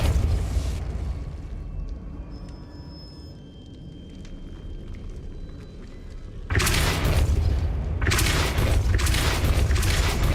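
Depulso force spells striking in Hogwarts Legacy, a quieter stretch giving way to a run of loud, dense blasts close by, one after another near the end, with no talk over them.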